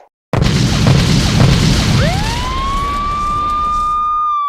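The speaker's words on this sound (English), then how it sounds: "She's acting like a police car siren." A loud cartoon sound effect: a dense rumbling crash gives way to a rising police-car siren whine that climbs and then holds a steady high tone, all close and without speech.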